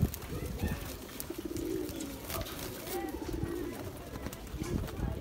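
Pigeons of the old, rare Rampur color strains give soft, low repeated coos, faint and close, amid a quiet background.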